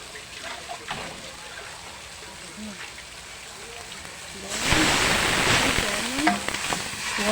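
Tomatoes frying in a pan, a soft crackle and stirring at first, then a loud surge of sizzling hiss about halfway through that stays strong, close up, with a person talking over it.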